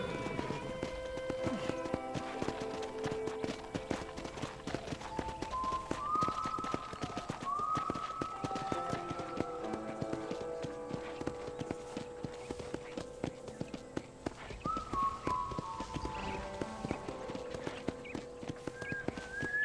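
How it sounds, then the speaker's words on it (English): Horse hooves clip-clopping in the Red Dead Redemption video game, a steady rhythmic trot on a ranch with a musical score playing underneath throughout. "I picked out a fine horse for you."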